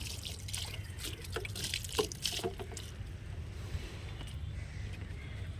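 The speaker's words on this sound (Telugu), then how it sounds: "ఇప్పుడు పైన కొంచెం వాటర్ వేసుకుందాం." Water is poured over freshly sown seeds in soil, a soft close trickle and splash with light drips lasting several seconds.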